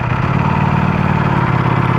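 Steady, loud idle of a 2018 Ducati Panigale V4 motorcycle engine through its factory exhaust with catalytic converter, a dense low rumble with a continuous mechanical clatter throughout.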